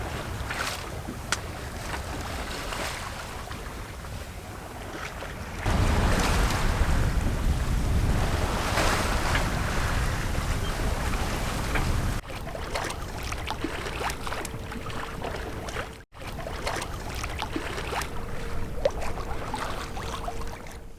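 A sailboat moves under sail in about 9.5 knots of wind, with a Yankee and a reefed main set, and the hull makes 3.5 knots; steady wind buffets the microphone and waves wash continuously, with no speech.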